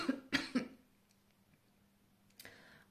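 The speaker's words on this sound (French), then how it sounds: "excusez-moi, parce que j'ai toussé" Three sharp coughs in quick succession at the start, close and fairly loud, then a quiet pause and a softer fourth cough or throat clear near the end.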